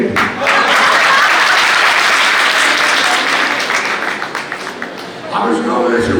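Dense, loud applause and clapping from a crowd in a procession at a Jain temple entry celebration in Jaipur, sustained throughout with overlapping hands, voices mixed in, and a brief lull before it swells again.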